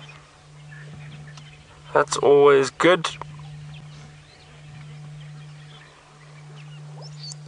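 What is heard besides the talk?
Egyptian geese calling across a river bank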